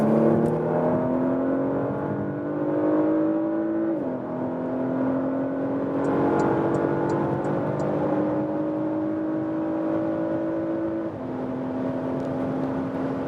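An all-wheel drive luxury SUV pulls hard under full throttle, its engine note climbing steadily through the gears with two brief dips at the shifts, heard from inside the cabin with a constant road roar beneath.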